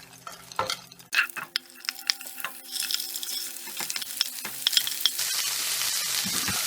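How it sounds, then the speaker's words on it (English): Chopped vegetables tipped into hot oil in a skillet for a vegan Chinese-style rice dish, breaking into a loud, steady close sizzle with scattered stirring clatter. "Now that my oil has heated up, I'm going to add my items to the skillet"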